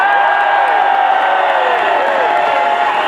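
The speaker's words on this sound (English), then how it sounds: "Let's have a big cheer for the foreign workers in our NHS" A large crowd at an outdoor Bin Brexit rally in Birmingham cheers loudly and without a break, a sustained roar of whoops and applause.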